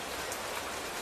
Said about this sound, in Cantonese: 雨不停落下